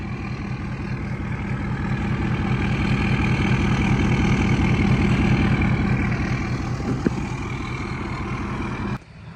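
A new pickup truck with an 8-inch lift idles nearby, its engine a steady, loud rumble that holds even for about nine seconds before cutting off abruptly, with no talk over it.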